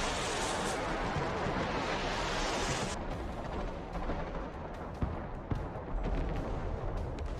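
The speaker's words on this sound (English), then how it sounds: "we can see some HIMARS units launching another artillery" A HIMARS rocket artillery strike in the Broken Arrow war game: a dense, sustained roar of launches and blasts for about three seconds, then scattered distant booms and crackling impacts, with no talk.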